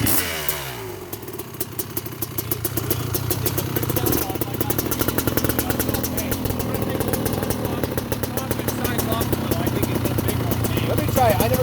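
A Honda CR500R Kaplan America Edition two-stroke motorcycle runs loud and close with its ignition cover off. The engine first catches and idles, then holds a rough, rapid, steady beat throughout, with voices talking over it.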